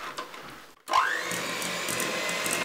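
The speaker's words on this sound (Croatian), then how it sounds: "Miksajte ovako dok ne dobijete potpuno ujednačenu masu" An electric mixer beats cooled filling into batter for a Mađarica layered cake. After a short silent pause the motor whirs up with a rising whine, then runs in a steady, loud drone to the end, with no voices.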